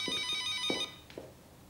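An indoor telephone rings in a short electronic burst, fairly faint and nearby, and then cuts off. A few soft knocks and thumps follow in an otherwise quiet room.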